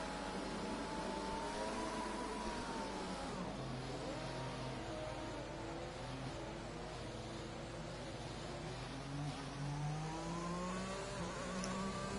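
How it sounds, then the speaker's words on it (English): A race car engine in a PlayStation 4 racing game at the Bahrain circuit, revving and whining steadily through rising and falling gear pitches, several cars droning together at moderate volume without talk. "Rev that engine, pal."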